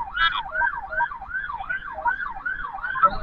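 An ambulance siren wails in a steady rising-and-falling cycle, loud and close, at a road accident scene on Jalan Bung Tomo.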